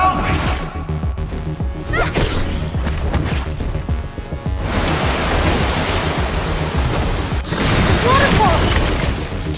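Waterfall in Minecraft Story Mode crashes down as a dense, loud wash of noise, following earlier booming impacts and bursts, with a brief surge near the end.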